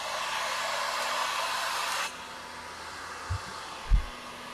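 A hair dryer blows in a steady loud whoosh for about two seconds, drying a drawing, then cuts off, leaving quiet room tone with a couple of soft knocks.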